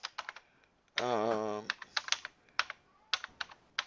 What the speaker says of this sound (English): can hear me typing away here.